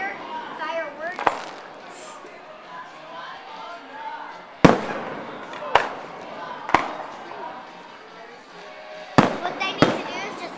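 Fireworks burst at an Angel Fire display, sharp booming cracks coming one at a time with long gaps between, over crackling and a crowd of people talking.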